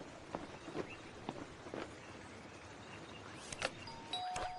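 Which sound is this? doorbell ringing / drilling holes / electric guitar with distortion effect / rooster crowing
doorbell ringing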